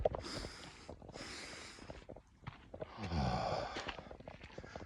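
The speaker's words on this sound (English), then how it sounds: "Sometimes a double sniff can help calm your body." A person breathes in with several short sharp sniffs, one after another, then gives a longer breathy exhale, close and quiet with no talking.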